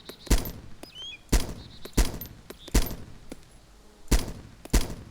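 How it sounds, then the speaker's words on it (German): Six loud, sharp sniper rifle shots in DayZ ring out at irregular intervals over several seconds, each cracking hard and trailing off briefly against a quiet outdoor background. "Voll weit weg, ich schieße jetzt einfach mal."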